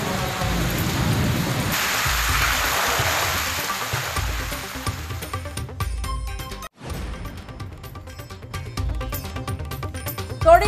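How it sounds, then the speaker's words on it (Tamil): Heavy rain falls steadily around the hill area of Kodaikanal, a dense continuous hiss of water that stays loud throughout, with a brief dropout partway through and no talking. "கொடைக்கானல் சுற்றுவட்டாரத்தில் 3 மணி நேரத்திற்கு மேலாக கனமழை."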